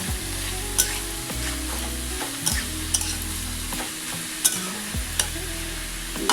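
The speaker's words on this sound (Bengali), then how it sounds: "তারপর একটু নুন দিয়ে দিয়ে নাড়াচাড়া করে" Bottle gourd stir-fried with salt in a pan: a steady sizzle of frying under repeated scraping strokes of a spatula that keep an even rhythm throughout.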